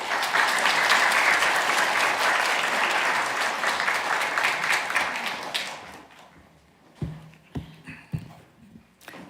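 Congregation in a church service breaks into dense, loud applause for a missionary, sustained for about six seconds before fading into a few scattered claps and taps.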